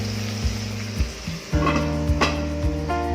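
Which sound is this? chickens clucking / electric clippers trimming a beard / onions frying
onions frying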